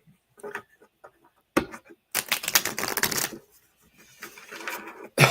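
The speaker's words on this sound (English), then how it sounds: "Let me shuffle real good." Tarot cards shuffled by hand close up at a psychic reading, a rapid papery riffle of dense ticking flutter in a short burst, with lighter taps and card slaps before and after.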